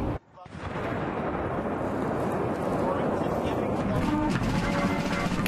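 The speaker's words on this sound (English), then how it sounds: "Gun salutes marked Remembrance Day ceremonies in our nation's capital" A ceremonial gun salute at an outdoor Remembrance Day ceremony in Canada's capital opens with a sharp blast. A heavy, rolling rumble then lingers loud and broad for several seconds.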